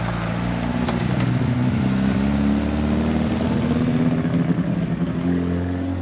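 A Mitsubishi Eclipse running rich drives past close by, its loud engine drone holding steady with a rough, throbbing rumble throughout.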